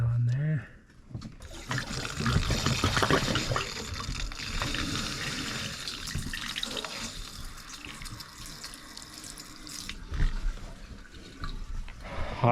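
Water gushes from a bathtub faucet during a rusty pipe repair, a steady broad hiss that starts after a brief squeak and runs on loudly, with people talking over it.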